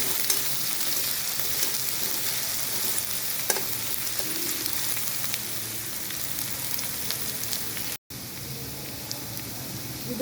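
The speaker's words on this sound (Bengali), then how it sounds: "আদা, হালকা করে ভেজে দিচ্ছি।" Ginger and dried chillies fry in a pan for restaurant-style beef sizzling, giving a steady, close sizzle with faint stirring scrapes throughout and a brief cut near the end.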